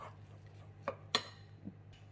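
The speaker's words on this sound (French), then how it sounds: "On mélange bien." Muffin batter with chestnut, banana and chocolate chips being stirred in a bowl, giving a few separate utensil clinks against the bowl over a steady low hum, with no talk.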